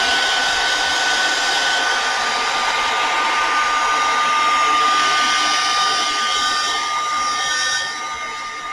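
Hair dryer blowing steadily and loudly up close while an art piece dries, a continuous whooshing roar that eases off slightly near the end, with no talking.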